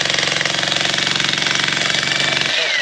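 A VEVOR demolition jackhammer pounds into rock in a steady, rapid hammering rhythm, loud and close, with an engine-like drone beneath it before it cuts off near the end.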